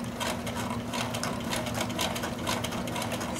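Sewing machine stitching along the seam of an old towel being made into a dish drying mat, a steady continuous mechanical whir with rapid needle chatter, close and even throughout.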